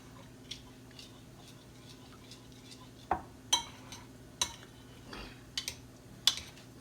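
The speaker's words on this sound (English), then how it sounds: "So I'm gonna mix up my cornstarch here a little bit more" Light clinks and taps of a utensil against a bowl while mixing a cornstarch slurry, scattered irregular strikes, close by, with a faint steady hum underneath.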